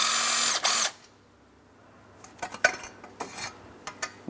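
A power tool whirs in a short burst while removing 10mm bolts from the backing plate of a front ABS wheel speed sensor on a 2008-2016 Chrysler Town & Country, followed by scattered light metallic clinks and taps.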